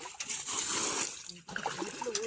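Water splashes and sloshes as a village pool in the Konkan is bailed out at night for fishing, with quiet irregular splashes and trickles, a brief pause midway, then smaller spatters; faint and close.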